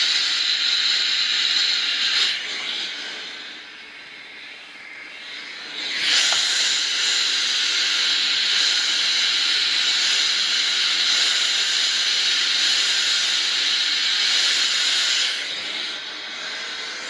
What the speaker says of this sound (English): fold it over a 1/2 inch and go ahead and iron all the way down